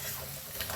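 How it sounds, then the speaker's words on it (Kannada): Chopped onions frying in a pan for a home-style chicken curry, a brief steady sizzle with faint stirring scrapes, close by and without voices. "ಆನಿಯನ್ ಗೋಲ್ಡನ್ ಬ್ರೌನ್ ಆಗೋ ತನಕ ಫ್ರೈ ಮಾಡಿ."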